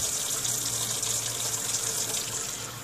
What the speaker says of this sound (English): You turn your hot water on.